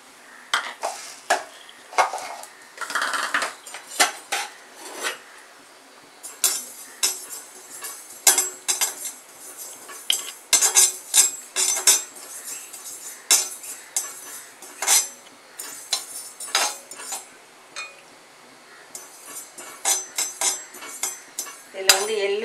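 Dry sesame seeds rattling and scraping as they roast in a pan, with repeated clinks of a spoon stirring at a steady pace, close and fairly loud, no talk.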